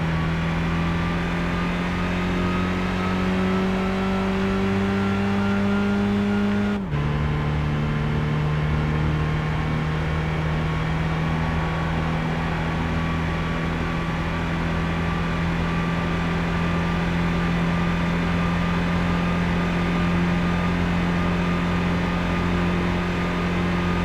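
Car engine held at full throttle in Gran Turismo 5, a steady loud drone with rising pitch that drops sharply after a gear shift and then climbs again slowly, with no talk over it.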